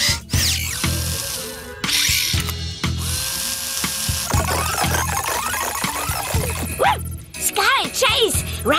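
A cartoon robotic tool arm extends with ratcheting clicks and mechanical whirs, a busy run of sharp tool noises interspersed with higher whirring sweeps, under animated voices speaking German.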